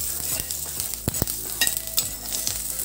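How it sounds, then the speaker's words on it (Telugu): Curry leaves sizzle in hot oil alongside dried red chillies until crisp, a fairly quiet steady crackle broken by a few sharp clinks and scrapes of a stirring spoon against the pan. "కరివేపాకు వేసి బాగా క్రిస్పీ అయ్యే వరకు వేయించుకోవాలండి"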